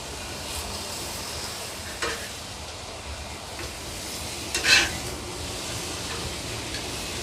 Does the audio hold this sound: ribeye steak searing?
yes